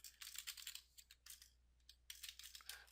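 Quick bursts of keystrokes on a computer keyboard while entering router configuration commands, close and crisp in short runs with a brief pause in the middle.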